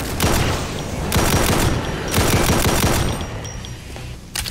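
Rapid bursts of gunfire from Brutal Doom, played in GZDoom, come in three loud clattering volleys separated by short pauses, with booming low-end impacts and no talking.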